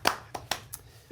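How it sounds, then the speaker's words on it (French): Quiz-show audience hands clap for the winning team, a few sparse, fairly close claps spaced unevenly rather than a full ovation. "On peut les applaudir."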